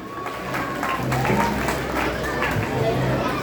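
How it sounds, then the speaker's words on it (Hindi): A school audience at an Independence Day celebration applauds a performance, dense crowd clapping blended with chatter and a voice, sustained and fairly loud for the whole span. "एक बार जोरदार तालियां हो जाए।"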